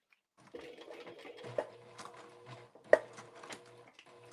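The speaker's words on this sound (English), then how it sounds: "Okay, so I just hand cranked most of this because I got nervous about that thickness." A hand-cranked sewing machine slowly stitches through a thick fabric bag, giving a steady, quiet mechanical whir with rhythmic needle clicks and a louder knock partway through, close and without talk.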